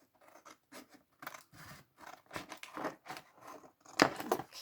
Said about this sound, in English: I'm just going to get some scissors and just cut this down